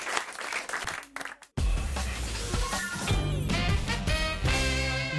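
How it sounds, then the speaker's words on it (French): Studio audience applause on a French radio or TV broadcast bursts in loudly after a brief pause, sustained clapping blended with upbeat music that continues throughout. "on remercie et on applaudit Monsieur Philippe Borrell"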